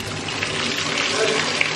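Water runs steadily from a tap into a bath, a continuous loud rushing gush at close range, with a voice faintly audible beneath it.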